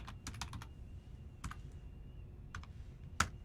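Fingers type a command on a computer keyboard in a few short bursts of soft clicks separated by pauses, ending in one sharper keystroke, quiet and close.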